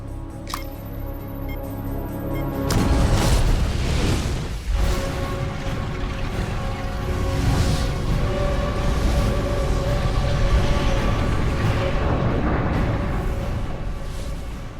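Layered movie explosions, including an on-set propane gas blast, erupt after a sustained tonal drone: a deep boom, then a rolling, roaring burst of fire and debris that swells and lingers for many seconds.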